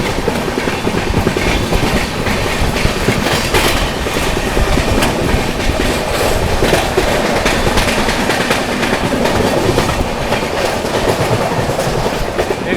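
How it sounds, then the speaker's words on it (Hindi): The Tamil Nadu Sampark Kranti Express, running from Nizamuddin toward Madurai near Narmadapuram, rushes past close by with a loud, steady roar and continuous clickety-clack of wheels. "निज़ामुद्दीन से चलकर मदुरई की ओर जाने वाली तमिलनाडु संपर्क क्रांति"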